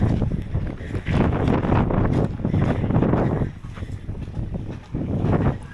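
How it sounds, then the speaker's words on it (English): Wind gusting outdoors in a small, quiet Mexican town of about 200 people, buffeting the microphone in rough surging bursts with brief lulls between them. "Wish it wasn't windy."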